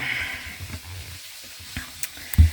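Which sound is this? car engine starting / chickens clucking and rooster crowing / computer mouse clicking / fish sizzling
fish sizzling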